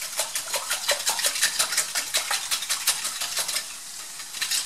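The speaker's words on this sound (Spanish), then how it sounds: "Vamos a revolver." Utensil stirring a frittata in a hot frying pan, with rapid repeated scraping and clinking against the pan over a steady sizzle, close and fairly loud.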